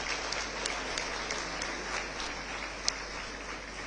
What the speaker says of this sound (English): Let's give Varshini another big round of applause